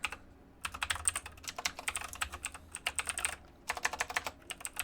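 Fingers type on a computer keyboard in bursts of rapid, close clicking separated by short pauses, quiet overall with no speech.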